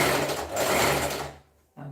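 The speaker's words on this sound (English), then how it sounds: "I'll be folding it and stitching 1/2 inch." A sewing machine runs close up, a fast continuous mechanical whir stitching a skirt waistband, slowing to a stop before a brief restart.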